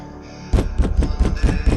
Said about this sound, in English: I heard another thumping on the door.